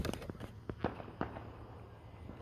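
Distant fireworks pop and crackle in a quick irregular series of sharp bursts, fairly faint against outdoor ambience, with no talking.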